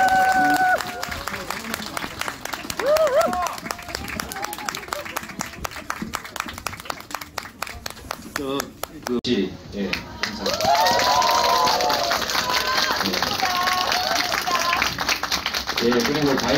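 Listeners at a Buddhist temple opening concert by a string quartet clap for the performers, a steady wash of applause under a speaking voice, with cheering and crowd noise swelling again in the second half.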